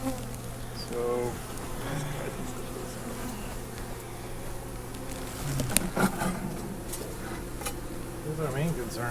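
A soft, continuous drone of many honey bees buzzing around a hive during inspection, with people talking quietly over it.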